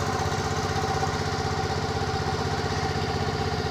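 Ferry boat engine hauling a vehicle across the Nam Ngum River near Vientiane, Laos, running as a steady, loud low mechanical drone with a constant throbbing pulse throughout, no voices.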